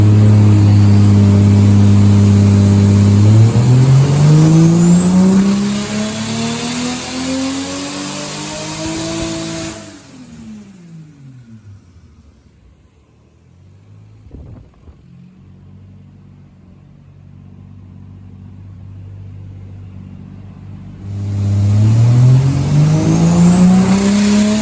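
A turbocharged Lexus IS300 with forged rods, BC cams, a Precision turbo and AEM Infinity management revs hard on a dyno. The loud engine note climbs, drops to a low idle for about ten seconds, then surges upward again.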